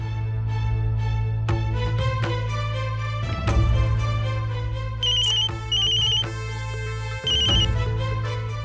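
A phone ringtone plays loudly, a repeating melodic tune with bright chiming notes, continuing without pause and no one speaking.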